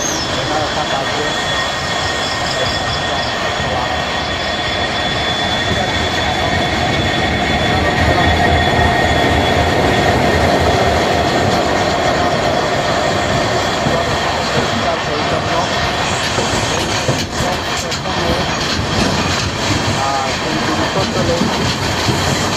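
The Guwahati–Sairang Express runs on its rails with a steady, loud, close rumble and rattle throughout, growing slightly heavier midway, heard continuously from near the carriage.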